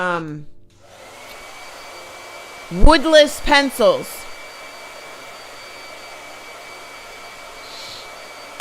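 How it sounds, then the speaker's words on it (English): A blow dryer runs during a painting session, giving a steady, even whooshing hiss that continues throughout while a few people talk briefly over it. "But yeah, blow dryer."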